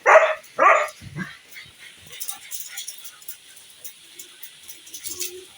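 Two loud, high dog yelps ring out close by, then softer whimpers and rustling as the dogs greet their returning owner. Faint voices sit underneath.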